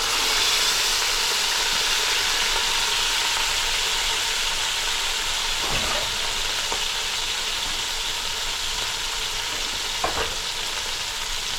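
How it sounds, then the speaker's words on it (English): A chuck roast sears in an Instant Pot with a steady, close, crackling sizzle and hiss that lasts throughout, broken by a few soft knocks as the meat is handled. "what's nice about an Instapot is that it allows you to sear the meat beforehand"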